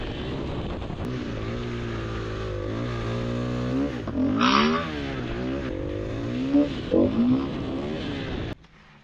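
A Yamaha Rex 70cc moped engine drones steadily while riding, pitch rising and falling as the throttle changes, loud and close throughout with no talk, then cutting off abruptly at the end.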